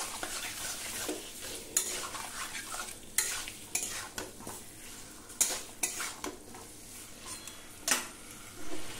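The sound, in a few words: marinated chicken being sautéed and stirred with spices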